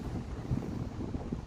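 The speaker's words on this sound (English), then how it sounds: "That's why it's so windy and wavy." Wind on open sea at the outer edge of Finland's Archipelago Sea, heard from a kayak: steady low gusting rumble and buffeting against the microphone, with wave wash blended underneath.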